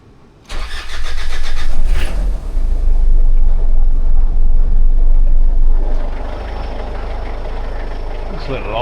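A 1994 Mitsubishi Pajero 2.8 litre turbo diesel with an overheating problem cranks and fires, then runs loud and close with a steady, rough idle across most of the clip.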